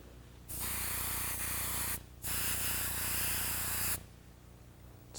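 An airbrush sprays scarlet red paint onto fingernails in a portrait painting, close and steady hissing in two long bursts separated by a short pause, then stopping.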